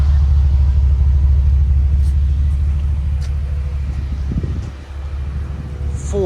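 A 2022 Ford F-350 with a 6.2L V8 and a Borla XR-1 Sportsman exhaust idles with a deep, steady low rumble close by, easing slightly near the end amid a few light handling noises.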